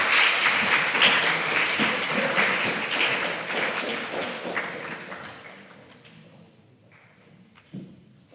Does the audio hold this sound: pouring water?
no